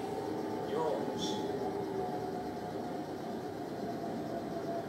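A train being driven, with a steady, dense mechanical rumble and hiss filling the cab continuously at constant loudness throughout.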